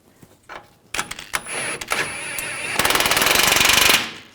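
An impact tool tightens a front lower control arm bolt on a 2013-2015 Chevrolet Malibu, first in short rattling bursts and then in one loud, sustained hammering run that stops abruptly.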